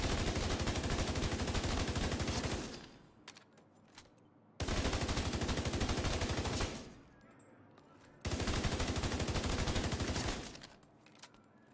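An assault rifle in The Division 2 shooting range fires three long sustained automatic bursts at a heroic elite target, each lasting several seconds and separated by short pauses, loud and close.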